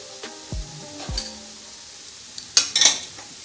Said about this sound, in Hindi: इसमें हम चाशनी को डालते हैं।